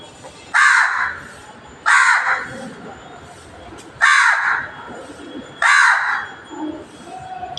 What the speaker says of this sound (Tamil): இந்த காக்கா வந்து என்னை பாருங்கள் பக்கத்துலேயே உட்காருது